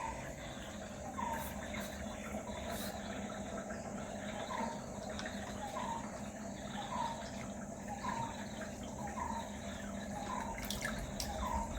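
Water drips into a piranha aquarium tank in regular, evenly spaced drops about once a second, set against a constant low hum and faint chirping in the background.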